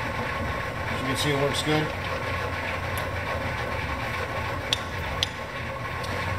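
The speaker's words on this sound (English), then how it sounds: "This is our Hardinge second operation lathe." A Hardinge HC 1-1/2 HP second operation lathe runs with a steady mechanical hum, and someone speaks over it briefly, with a few light clicks.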